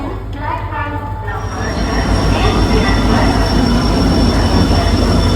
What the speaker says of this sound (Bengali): এখন রাত 2টোর সময় ট্রেন ঢুকছে